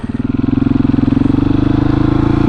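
A supermoto motorcycle engine revs hard and close, a steady throbbing drone that builds slightly in pitch over a few seconds.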